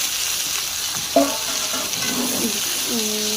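Chopped vegetables frying in a pan, a steady sizzle with occasional stirring scrapes, and a voice chatting briefly near the end.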